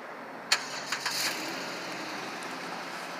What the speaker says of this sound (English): This vehicle does come with remote start,